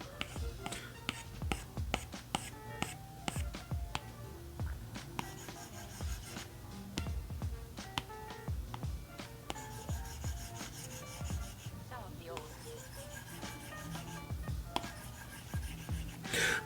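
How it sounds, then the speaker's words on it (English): An Apple Pencil drags and taps across a matte screen protector on an iPad Pro 11, giving quiet, close, dry scratching strokes with small irregular clicks throughout, no voices. "the actual sound that it made as you went across it with your pencil"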